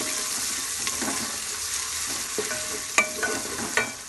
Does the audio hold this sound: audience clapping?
no